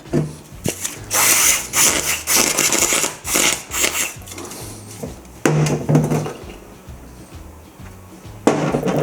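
Irregular grinding and scraping bursts of a 6mm tap cutting thread in aluminium on a Lambretta scooter part, uneven in length, with a low repeating hum underneath.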